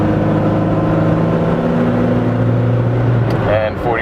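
A 1984 first-generation Toyota 4Runner truck accelerates on a 55 mph road, its engine droning loud and steady with gradually rising pitch as it pulls, heard from inside the cab with a brief voice near the end.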